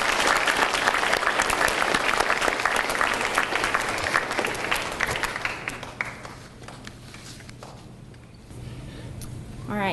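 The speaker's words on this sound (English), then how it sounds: "Can I give my teachers a round of applause, please?" A room of parents and students claps for teachers at a DARE program event at Don Callejon, starting loud and dense, then thinning out and tapering to scattered claps near the end.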